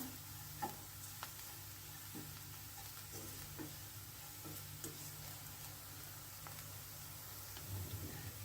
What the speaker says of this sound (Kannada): ಹಸಿಮೆಣಸನ್ನು ಸಹ ಸಣ್ಣ ಸಣ್ಣದಾಗಿ ಕಟ್ ಮಾಡಿಕೊಂಡು ಹಾಕೋಬಹುದು ಅವಾಗ ಅದು ಸಹ ಸ್ವಲ್ಪ ಈ ಥರ ಫ್ರೈ ಆಗಬೇಕಿದ್ರೆ ಚೆನ್ನಾಗಿ ಕ್ರಿಸ್ಪಿ ಆಗುತ್ತೆ